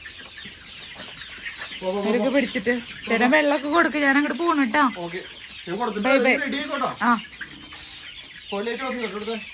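Chickens cluck and call repeatedly in loud, rhythmic bursts close by, with a few short pauses between, while a person talks over them in the background.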